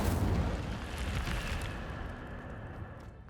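Incendio fire spell cast in Hogwarts Legacy: a loud whooshing, roaring burst of flame that fades away steadily over a few seconds.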